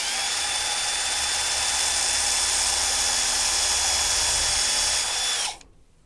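A 1/16 inch (about 1.5 mm) drill bit bores into an EnoItalia ENO 3 wine grape destemmer crusher, giving a loud, steady, high-pitched whine that holds for about five seconds, then cuts off abruptly.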